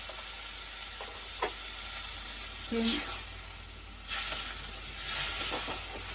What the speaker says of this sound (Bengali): বাটি ধোয়া জলটা দিয়ে দিলাম। অল্প জল দিলাম, আলুটা হয়ে যাবে।